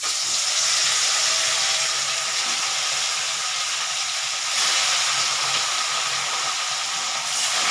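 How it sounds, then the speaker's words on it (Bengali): Katla fish pieces frying in hot oil on a gas stove, a steady loud broadband sizzle and hiss that continues without break, with no voices. "তেলটা গরম হয়ে গেছে, এবার আমি মাছগুলো আস্তে আস্তে আমি ছাড়বো।"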